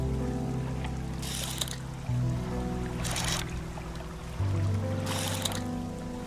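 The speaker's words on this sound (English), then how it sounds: "The engines are going a little faster," Steady low boat engine drone from the fishing trawler in the video game Dredge, a continuous hum that shifts pitch slightly as it speeds up, with periodic bursts of splashing water over it.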